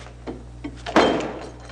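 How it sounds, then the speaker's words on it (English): Cell door being closed: a couple of light taps, then a solid metallic thunk of the door shutting nearby, ringing briefly in a reverberant space. "When they come in, I close this door on them."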